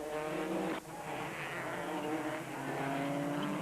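A Subaru rally car engine screams at high revs on a rallysprint course, briefly dropping as a gear changes, then climbing again, with tires hissing underneath; close, loud, and continuous.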